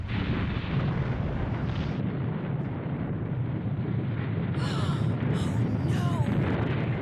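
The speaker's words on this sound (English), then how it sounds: "Sounded like an explosion." A deep, rumbling explosion roars on in Nancy Drew: White Wolf of Icicle Creek, sustained and heavy, with brief high chirping sounds near the end.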